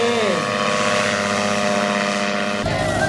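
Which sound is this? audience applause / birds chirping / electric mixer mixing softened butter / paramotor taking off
paramotor taking off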